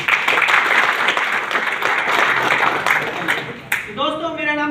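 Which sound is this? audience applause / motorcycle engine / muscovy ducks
audience applause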